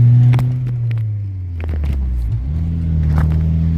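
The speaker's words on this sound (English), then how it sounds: "it does feel good driving stick shift again" A third-generation Honda Prelude with a 5-speed manual gearbox drives slowly, its engine tone sliding down and then settling back up as it shifts gears, close and moderately loud, with a few knocks and rattles.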